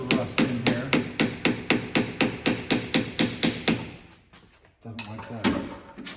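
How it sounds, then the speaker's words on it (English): A hammer taps steadily on rusty rear leaf spring parts of an MGB, roughly three sharp metallic knocks per second in an even rhythm, then a brief pause before a few more taps. "I have to tap on this a little bit with a hammer"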